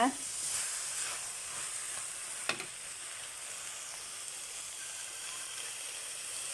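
Bamboo shoots sizzle steadily while being stir-fried, a soft continuous frying hiss with an occasional spatula knock, faint and fairly even throughout.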